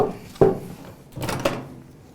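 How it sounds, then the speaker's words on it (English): A short click and clunk of a microwave door being pulled open, followed by a second softer rattle a moment later, close by. "So I shall put the food in the microwave. So I open it up"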